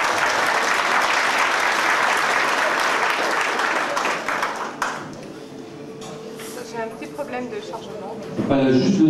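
Audience applause for an organ performer at a Yamaha Electone music club event in Le Havre, dense clapping for about five seconds that fades out, then someone speaks.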